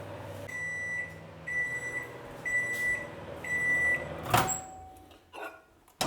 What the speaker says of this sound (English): Now I'll just put these into the microwave and give them a few seconds.